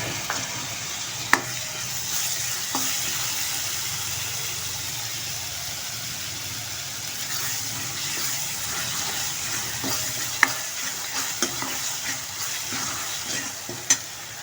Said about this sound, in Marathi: मी यात टोमॅटो टाकते.